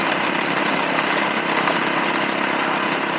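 Suzuki S40 Boulevard motorcycle engine running at about 4,100 RPM while riding at 65 mph, a steady, dense drone with wind noise that holds unchanged throughout, loud and close.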